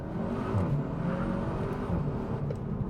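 Cupra 290 hatchback accelerating hard in first gear on the road, a steady loud engine drone and whir with road noise, continuous and close throughout.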